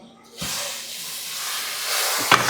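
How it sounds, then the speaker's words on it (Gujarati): Hot tempering is poured into boiling dal, setting off a sudden loud hiss of steam that swells and holds for about two seconds, with a brief clank near the end. "ભાઈ વઘાર કરું છું"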